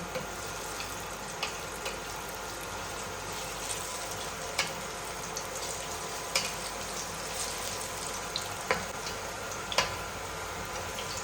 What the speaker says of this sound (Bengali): ভাজা হয়ে গেছে লাল লাল করে